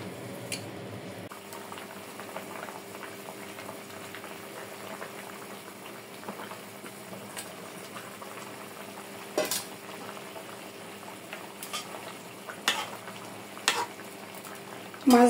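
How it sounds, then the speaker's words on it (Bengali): A curry broth for hilsa fish and green banana bubbles and simmers in a pot, a quiet continuous boil with occasional sharp clinks and stirring scrapes near the end. "ঝোলটা ফুটে উঠলে মাছ দিয়ে দেবো।"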